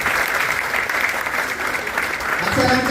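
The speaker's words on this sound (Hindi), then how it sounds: "ताली होना चाहिए।" Sustained audience applause fills the room at a real estate investment seminar, a dense, steady wash of many hands clapping at close range with a slight swell near the end.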